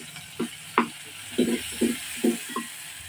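Ginger, garlic, green chilies and onion fry in a pan for a bottle gourd dish. A soft, steady sizzle runs beneath a series of short, distinct scrapes and knocks from stirring, with no talking.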